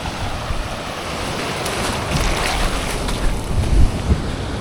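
Sea waves break and wash along the North Devon shore, a loud continuous surf roar close by, with wind buffeting the microphone and some low thumps.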